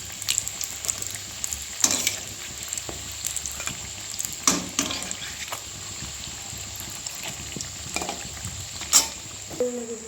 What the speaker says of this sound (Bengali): দু পিঠি লাল হয়ে ভাজা হয়ে গিয়েছে